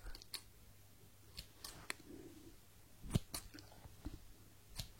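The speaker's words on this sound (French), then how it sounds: "Je vais en douceur, en toute douceur, dans cette coupe de cheveux." Scissors snip hair during a close, quiet haircut roleplay, with sparse crisp clicks scattered in irregular bursts and soft handling noises between them, no talking.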